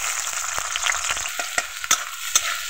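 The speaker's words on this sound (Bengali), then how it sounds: "এখন দেওয়া হলো পেঁয়াজ কুচি" Chopped onion hits hot soybean oil in a wok, with a steady frying sizzle and a few scraping stirs and knocks close up.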